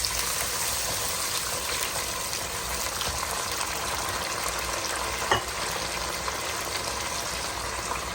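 Whole spices fry in a pot for chana pulao, giving a steady, moderate sizzle with a brief clink partway through and no talking.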